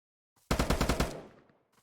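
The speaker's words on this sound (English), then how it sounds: "I'm shooting and moving until I'm the closest I can to my enemy." Gunfire in the Roblox game Apocalypse Rising 2 comes as a short automatic burst of roughly eight quick shots, moderately loud, then a fading tail into quiet.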